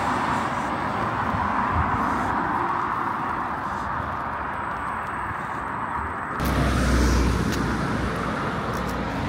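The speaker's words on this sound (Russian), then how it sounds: "Маршрутка 30-я проехала" A number 30 minibus passes on a city street as steady traffic noise, with a louder low rumble swelling close by near the end; no one speaks.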